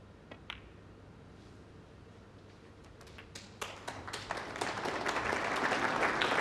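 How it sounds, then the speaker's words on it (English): Applause rising in a snooker arena at a Neil Robertson vs. Ricky Walden 2014 Champion of Champions match, starting with a few scattered claps and swelling into steady, fairly loud clapping from the crowd. "The applause recognises 28. that Walden is over the winning line in this opening 29. frame."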